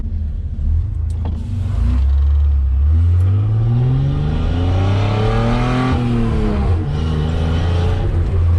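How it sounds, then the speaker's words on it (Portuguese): A Chevrolet Omega 3.0 Diamond inline six-cylinder with a diffuser exhaust roars as it accelerates hard, heard close from inside the car with a window partly down, its engine tone climbing and falling through a shift. "Então ele tem um ronco muito legal dos 6 cilindros e com esse difusor"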